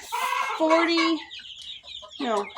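Hens in a farm pen holding around fifty birds, with roosters kept nearby, cluck in several bursts, close and fairly loud, with one sustained tonal call in the middle.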